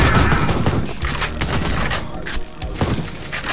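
Rapid gunfire from the Lover Boy gun in the video game Ion Maiden, loud, close shots mixed with booms, thuds and shattering impacts, with a voice talking faintly underneath.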